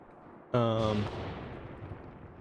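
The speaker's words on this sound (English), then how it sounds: "Heavy explosions here, or heavier than expected from what just infantry can bring." Heavy explosion with gunfire in a WW2 simulator game battle, a sudden loud blast at about half a second ringing out over a sustained rumble and crackle that slowly fades, over faint background noise.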